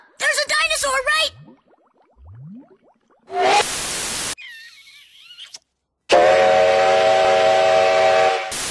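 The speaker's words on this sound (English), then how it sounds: "Steam engines have whistles that sound like this." The whistle of steam locomotive Nickel Plate Road 587 blows in two long, loud blasts, separated by short bursts of other noise, with a voice speaking briefly near the start.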